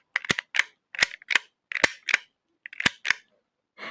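Sharp, crisp clicks in quick pairs and small clusters, close and distinct against silence, from a small knitting tool being turned.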